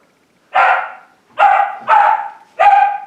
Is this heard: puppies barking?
yes